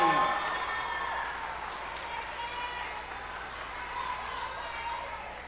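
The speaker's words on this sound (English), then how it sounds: "Please give a round of applause to Ms. Ford's class, 5th grade." Audience applause at an elementary school graduation for a fifth-grade class, a steady wash of clapping from a crowd sustained evenly throughout.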